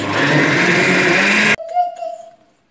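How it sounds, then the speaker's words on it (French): A kitchen blender mixing a smoothie with orange juice runs loud and steady, then cuts off abruptly, leaving a brief fading whine and faint clatter. "je ferme mon mixeur et je mets en marche"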